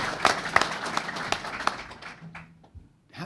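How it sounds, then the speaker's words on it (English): A brief round of applause for Chairman Conaway at a roundtable discussion, a few distinct claps over scattered clapping, fading out after about two seconds into near quiet. "give Chairman Conaway a real round of applause for coming"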